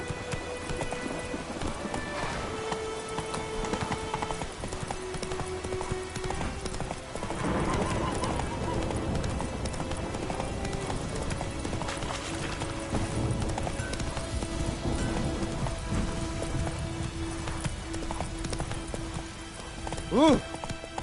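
Horse hooves galloping steadily through an open-world fantasy game, a rapid clip-clop rhythm that carries on throughout, with a brief whinny near the end and a voice speaking now and then over it.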